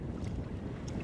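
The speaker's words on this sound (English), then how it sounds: "wind's got up now" Wind gusting over open sea off North Stack, Anglesey, during a sea kayaking trip: a steady, rumbling buffet of air against the microphone with faint water hiss, no voices.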